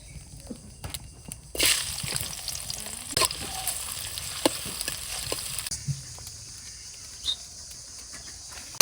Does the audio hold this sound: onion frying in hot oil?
yes